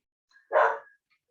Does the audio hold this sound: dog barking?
yes